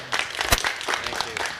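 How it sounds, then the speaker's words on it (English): A crowd at an evening muscle car and Corvette show applauds briefly, scattered clapping from a moderate distance with some crowd noise mixed in. "Let's give them a big round of applause."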